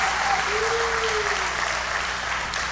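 A church congregation applauds together in steady, continuous clapping that fills the space, with a faint tonal sound drifting through the middle of the burst.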